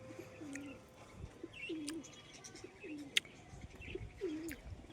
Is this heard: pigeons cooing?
yes